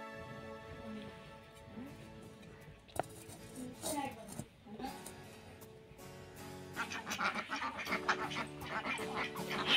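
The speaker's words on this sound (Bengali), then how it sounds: "হাঁসগুলো পুকুর থেকে চলে এলো বাড়িতে খাওয়ার জন্য।" A flock of ducks comes back home from the pond, quacking repeatedly and growing louder and busier toward the end, heard up close in a village household with some voices in the background.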